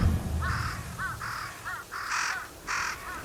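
Crows cawing in the video game Ghost of Yotei, a series of about seven loud, harsh caws in uneven bursts, some overlapping, heard close with no talking.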